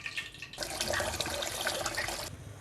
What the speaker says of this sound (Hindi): तेल गरम हो रहा है, तब तक हम चावल धो लेते हैं